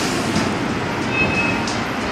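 Airport terminal shuttle train rolling along its guideway, a continuous rumbling ride from inside the car with a brief faint squeal partway through and no talk.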